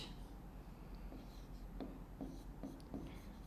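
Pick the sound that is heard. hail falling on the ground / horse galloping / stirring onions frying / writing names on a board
writing names on a board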